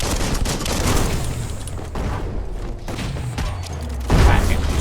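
Explosions from a bomb lobber in the Biomutant game come as a rapid burst of booming blasts and crackling bangs, loud and close, with a heavier blast near the end over continuous rumbling noise.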